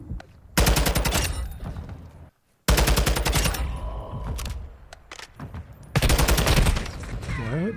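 AK rifle gunfire in a video game: three loud, close bursts of rapid automatic fire, each lasting one to two seconds, separated by brief pauses with quieter game noise.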